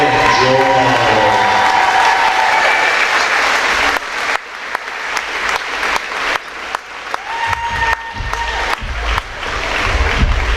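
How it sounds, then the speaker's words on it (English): A crowd at a varsity girls' basketball game claps loudly for the seniors and their parents. The applause is dense and sustained, with some cheering over it, and fades into scattered individual claps toward the end. "Let's give another round of applause for these seniors and their parents"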